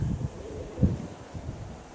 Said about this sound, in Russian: Вот такой сильный ветер.